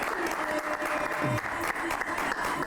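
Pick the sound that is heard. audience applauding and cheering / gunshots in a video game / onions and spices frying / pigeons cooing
audience applauding and cheering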